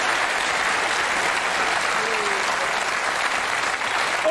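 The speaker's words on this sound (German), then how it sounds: "Applaus, danke" Studio audience on a German TV comedy show bursting into sustained, dense applause that stays loud and steady throughout without a break.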